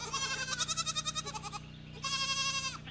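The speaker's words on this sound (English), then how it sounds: "the goats are very loud" Goats on a small homestead bleat loudly and close by, one long wavering cry followed after a short pause by another shorter bleat, over a low steady hum.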